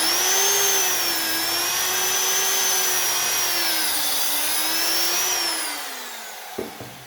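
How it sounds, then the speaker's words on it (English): An angle grinder runs over a cheap rubber ergonomic mat, a loud continuous whine that wavers in pitch, then winds down and ends with a couple of small knocks. "if you want to run a grinder over this"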